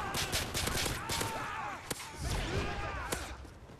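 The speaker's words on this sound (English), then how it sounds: "Wow, I actually like this pistol." Pistol fire in the Modern Warfare 3 Survival video game: a quick series of sharp shots with sweeping game effects behind them, fairly faint overall.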